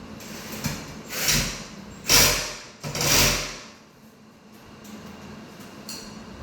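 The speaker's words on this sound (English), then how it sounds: "I use my drill to hold it up and get it started" A power drill whirs in three short bursts, a few seconds of motor noise each, driving a screw while installing a ceiling fan, with quiet handling sounds in between.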